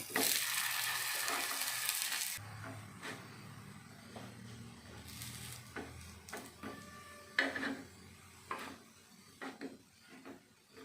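Banana flower cutlets frying in a pan, turned to roast the other side, with a loud steady sizzle at first that drops to a softer crackle, broken by occasional clinks and scrapes of a utensil.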